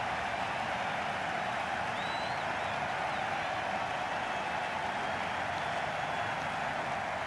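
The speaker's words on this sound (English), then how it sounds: "Will you listen to the crowd?" Dense, steady roar of a cricket stadium crowd cheering and applauding after a six in the Cricket 22 video game, a continuous wash of noise with no voices standing out.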